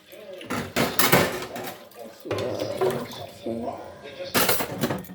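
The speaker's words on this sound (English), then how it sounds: "let's go to the kitchen and wash plates because there's plates there waiting for me" Plates, bowls and spoons being washed in a kitchen: bursts of clinking dishes and rattling cutlery over running water, loud and close, with a person speaking briefly in between.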